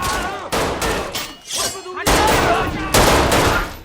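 Several loud gunshot bursts in quick succession in an action film shootout, sharp and close, broken by short pauses, with dramatic film audio and no speech.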